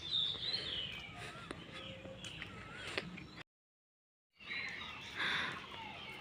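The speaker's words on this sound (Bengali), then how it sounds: "এই যে পাখির কলরব" Birds chirp and twitter faintly at dawn over a village, soft scattered calls against a low background, broken by a short stretch of total silence.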